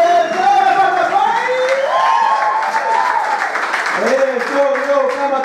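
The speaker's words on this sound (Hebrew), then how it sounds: "תנו הרבה כפיים" A crowd at an evening show of Moroccan Mizrahi music applauds and cheers loudly and steadily, with whoops and shouting voices mixed into the dense, continuous clapping.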